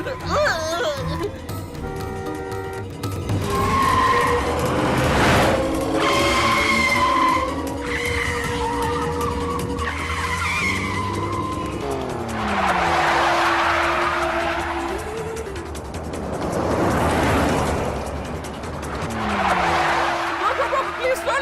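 Car driving fast with engine roar and repeated tire skids and squeals, loud and close, while people shout and talk over it.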